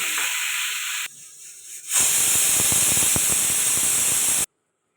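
A pressure cooker whistles while ghugni cooks: a loud, sharp jet of hissing steam, a short dip, then a stronger sustained whistle lasting a couple of seconds before it stops abruptly.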